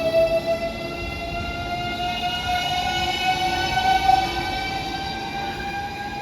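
Train rolling past a station near the beach resort of Shepsi on Russia's Black Sea coast, a steady close rumble with rail squeal and sustained tonal whine running throughout.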